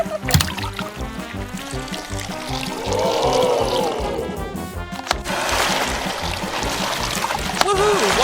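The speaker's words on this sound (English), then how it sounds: "Water is flowing perfectly through the pipes." Water gushes through pipes into a miniature model river beneath a homemade concrete bridge, a continuous pouring and splashing rush that swells partway through and carries on steadily.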